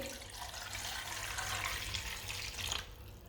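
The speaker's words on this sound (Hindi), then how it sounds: "पानी डाल लेंगे।" Water poured into a wok holding chicken pieces, a continuous splashing pour that runs steadily for about three seconds before tapering off near the end.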